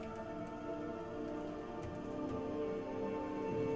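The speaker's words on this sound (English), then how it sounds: "It's raining." Steady rain falls in an MMO video game, a soft continuous patter mixed with a quiet droning game soundscape and faint scattered drops.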